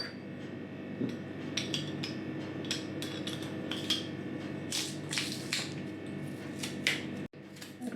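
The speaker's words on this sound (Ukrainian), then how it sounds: "Розріжу ось так зубчики буде зручніше." A knife slicing garlic cloves on a board while preparing snack pickled cucumbers, giving a run of short crisp cuts and taps at close range over a faint steady hum.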